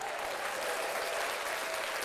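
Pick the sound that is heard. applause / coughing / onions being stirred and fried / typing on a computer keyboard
applause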